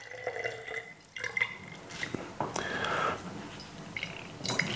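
An aquarium filter sponge is squeezed out by hand over a sink or container. Muddy water drips and splashes in short irregular bursts, close and moderately loud, with no talking.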